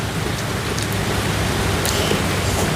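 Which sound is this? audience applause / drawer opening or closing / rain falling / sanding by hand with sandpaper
rain falling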